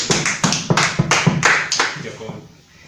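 A church congregation claps in strong, uneven bursts of applause that fade away toward the end.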